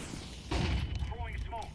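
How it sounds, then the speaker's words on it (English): A flashbang grenade goes off in a video game as a sudden sharp burst that rings briefly, with a faint voice and some game noise around it. "Flashbang."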